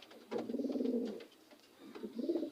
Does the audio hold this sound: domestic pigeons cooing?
yes